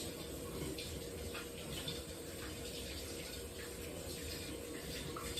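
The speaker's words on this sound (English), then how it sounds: "we're going to go ahead and wash our hands before we start" Hands are washed under a running kitchen tap before cooking baked tilapia: a steady, unbroken stream of water splashing close by for the whole stretch, with no talking.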